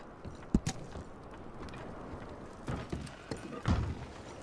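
Horses in Red Dead Redemption 2 shift and stamp nearby, giving a few soft hoof clops and creaks of tack spread out over low outdoor ambience, fairly quiet and sparse.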